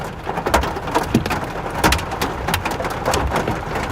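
Hail from a supercell thunderstorm in Iowa pelts surfaces and a nearby roof in loud, irregular sharp impacts over a constant rain-like hiss, with no voices.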